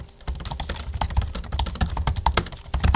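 Fast, crisp key clicks on an M4 MacBook Pro laptop keyboard, typed at close range in a quick irregular rhythm with no speech.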